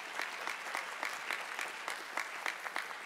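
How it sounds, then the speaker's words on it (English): An audience at a 2018 presidential inauguration claps steadily for a choir, a dense and even wash of applause heard from a distance with no voices over it. "Let's give that choir another round of applause"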